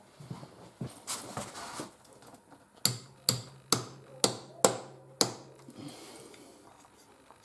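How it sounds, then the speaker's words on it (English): A series of sharp, evenly spaced taps of a rubber hammer on an e-bike part during its build, about six close knocks after a few scattered ones. "Just give it a little tap with a rubber hammer, just to make it nice and smooth."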